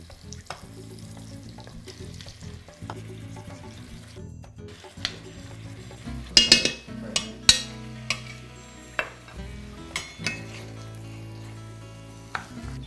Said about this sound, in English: I'm just mixing it around with the onions and kind of chopping it down a little bit.